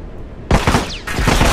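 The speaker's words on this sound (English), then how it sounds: "He's shooting me through the box!" Gunfire in The Last of Us multiplayer hits a player hiding behind a box: a sudden close burst of shots cracks in, pauses briefly, then resumes loud and rapid.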